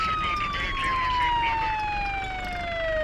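An ambulance siren passes at a moderate distance, its steady wail sliding slowly downward in pitch as it goes by, with no talking over it.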